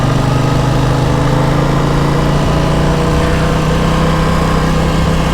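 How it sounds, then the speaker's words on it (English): A 2021 Aprilia RS 660 two-cylinder motorcycle idles with a throaty exhaust, holding a steady, low, even rumble close by for several seconds with no talking. "2-cylinder engine, what you would expect. Nice throaty exhaust."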